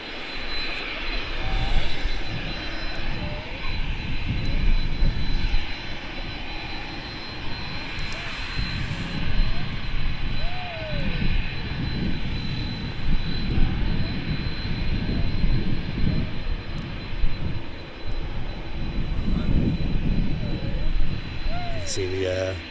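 Qatar jet airliner taxiing at Manchester Airport, a steady loud engine roar and whine heard from outdoors, with wind buffeting and occasional bird chirps.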